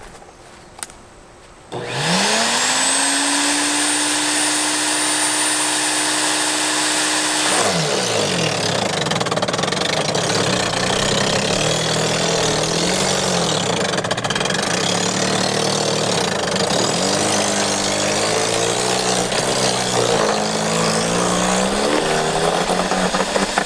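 Earthwise 15 amp electric chipper/shredder starting up with a rising whine, then shredding branches with loud, uneven grinding and crunching over the motor's drone, close and continuous with no talk.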